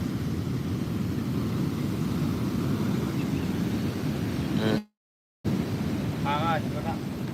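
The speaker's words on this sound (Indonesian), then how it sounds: "Ombaknya ngeri sana, besar sekali nih ya." Large waves crashing at Muaro Bantiang beach in Tarusan, where the shore is eroding, a continuous deep roar mixed with wind buffeting on the microphone, cut by a brief dropout, with a voice speaking briefly near the end.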